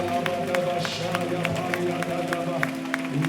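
A church congregation claps hands rhythmically during prayer, steady repeated claps over a sustained musical drone and raised voices.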